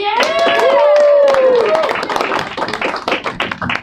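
A crowd at Bushwick Comedy Club in New York cheers loudly with whoops and shouts during a comedy competition, then breaks into dense, sustained clapping.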